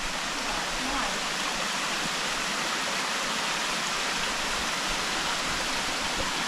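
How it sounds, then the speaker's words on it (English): A small mountain stream on Madeira flows close to a waterfall, giving a steady, loud wash of rushing water that holds evenly from start to end with no other clear sounds. "We're at this little stream, about 15 minutes from the waterfall."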